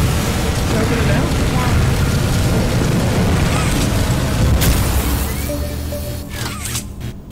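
Fire bursting from a machine in Poppy Playtime Chapter 2, a loud sustained roaring whoosh with rumbling low crackle that holds steady for about six seconds, then fades with a few sharp pops near the end.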